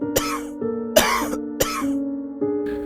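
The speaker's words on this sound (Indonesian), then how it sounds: "dari arah luar pintu mendadak terdengar suara batuk kering seorang pria tua" An old man gives three harsh, dry coughs with short gaps between them, used as a horror story sound effect heard from beyond a door.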